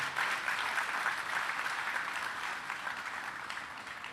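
A conference audience of the Liberian diaspora applauds the President's team, a steady, even roar of many hands clapping at moderate distance that continues for several seconds without pause.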